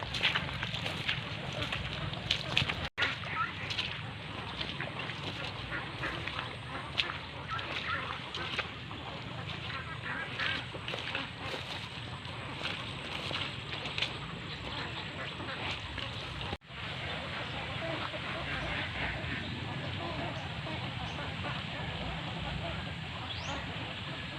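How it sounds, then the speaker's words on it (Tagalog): Domestic ducks on a duck farm quack steadily in a dense flock, their calls filling the whole stretch near and continuous, with faint voices mixed in. "ito po mga alagang itik natin"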